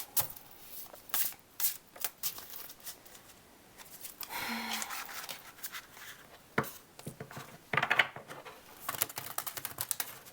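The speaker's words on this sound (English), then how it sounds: "So let me do a little bit of shuffling here." Tarot cards riffled and shuffled in quick bursts of crisp flicking, fairly close, with short pauses and soft handling noises between.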